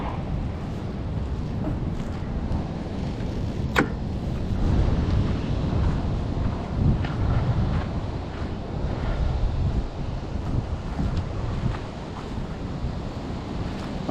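Surf rolls and breaks continuously at Gamble Rogers State Park beach while strong wind buffets the microphone, a loud, steady wash of ocean noise with no voices.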